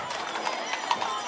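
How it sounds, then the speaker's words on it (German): Thoroughbred horses walking in a horse market parade in Gaildorf, their hooves clip-clopping on pavement in a quick irregular patter against a faint street background. "Jetzt haben wir Vollblut. Das sind natürlich die reinrassigen Pferde."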